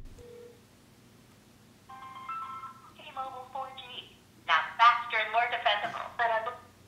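A phone call to T-Mobile rings through on an iPhone 4S: a soft ring tone, then a series of louder tones and what sounds like a phone menu or voice. Light background hum runs underneath and no one nearby is talking.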